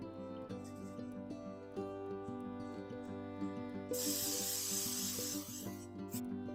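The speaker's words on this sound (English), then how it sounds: "And I'm gonna get some baker's spray." A short hiss of baker's spray aerosol onto an 8-inch round baking pan bursts out for about two seconds over quiet background music, then stops.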